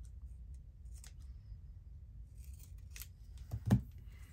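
Scissors snip paper during a craft session, a few quiet, sparse cuts against a low background hum, with one sharper snip near the end.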